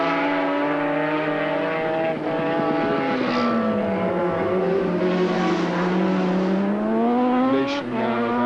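A Norton rotary-engined racing motorcycle on a race track, its engine note drawn out and loud, sliding down and back up in pitch through gear changes as it runs close by, with no talk.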